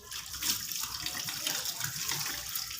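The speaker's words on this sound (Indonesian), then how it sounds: "Habis itu bilas dengan air." Steady running tap water splashes continuously, a close, even hiss of water flowing over hands with no talking.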